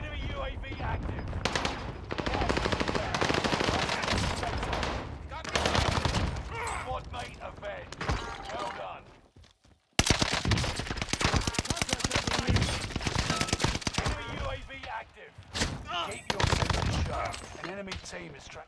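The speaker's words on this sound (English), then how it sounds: "The bastards are shooting at me." Enemy gunfire in the shooter game Warzone crackles in dense bursts of rapid automatic shots, loud and close, with brief lulls and a sharp cut midway.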